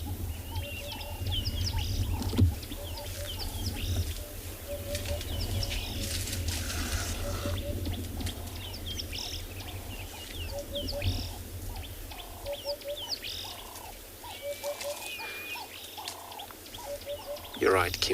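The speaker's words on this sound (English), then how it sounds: "If you mean that bird is still calling, because there's kind of a few different call of birds in this area." Several kinds of wild birds call on an evening safari, with repeated chirps and whistled phrases scattered over a steady outdoor ambience, moderately distant, as a person talks softly at times.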